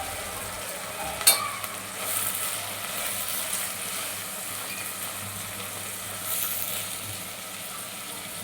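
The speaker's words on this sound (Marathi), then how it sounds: "1 चमचा तिखट लाल मिरची पावडर मी घेतली आहे आणि ही सुद्धा आपण तेलामध्ये परतून घेऊ" Red chilli powder being sautéed in hot oil in a pan makes a soft, steady sizzle, faint and continuous, with a brief clink of a spoon near the start and no talking.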